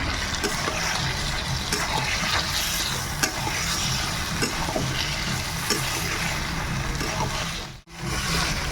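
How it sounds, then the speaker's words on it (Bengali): Potatoes sizzling after going into a pan of frying country chicken curry, a loud, dense, steady sizzle with occasional stirring scrapes, close and unbroken except for a brief cut near the end. "এবার আমাদের আলু দেওয়া হচ্ছে।"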